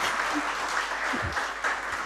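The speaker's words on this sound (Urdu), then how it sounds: "تو ان کے لیے تالیاں بجا دیں" Audience applause for a father-in-law at a humorous book launch ceremony, a steady dense clapping from a crowd filling the whole stretch at even loudness.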